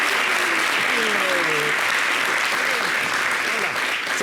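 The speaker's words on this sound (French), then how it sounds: "Sambé, Tabaski, merci encore de l'applaudir." Dense, steady applause from a TV studio audience fills the whole clip, with a voice speaking faintly underneath.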